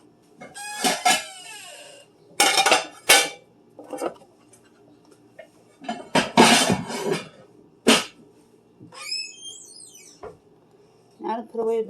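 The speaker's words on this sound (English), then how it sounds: "Now to put away the silverware." Silverware clattering and clinking in separate bursts as it is put away in a home kitchen, with loud metallic jangles, brief squeaks and gaps of quiet between handfuls.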